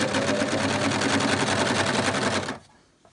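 An overlocker runs at a fast, even rhythm as it sews a seam on a sleeve for a homemade bumblebee costume, loud and close, then stops abruptly near the end.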